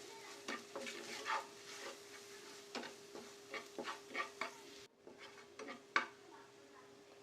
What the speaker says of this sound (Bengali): আর এক এক করে এখানে জিরার গুঁড়া আর ধনিয়ার গুঁড়াটাও আমি দিয়ে ভালো করে কষিয়ে নিব